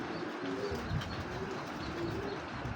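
Soft, low cooing of pigeons, a few murmuring calls repeating over a steady background hum, fairly close and gentle.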